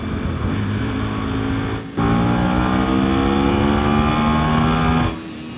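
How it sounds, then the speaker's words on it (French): A motorcycle engine with a double-stack intake trumpet hums steadily, then revs up to a louder, higher-pitched intake drone for a few seconds before dropping back. "Le bruit d'aspiration il a un peu changé je trouve."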